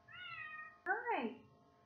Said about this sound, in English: She is a neighborhood cat.